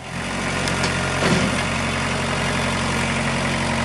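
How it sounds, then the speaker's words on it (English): A tractor engine idles steadily with a deep, low rumble and faint vibration, holding an even level throughout with a brief swell midway. "This is finagling this tractor, this thing, in tight quarters."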